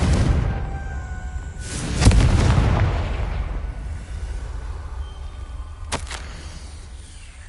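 A Confringo spell explosion in Hogwarts Legacy: a loud booming blast with a rumbling tail, followed by a second, sharper burst a few seconds later, with no talk over it.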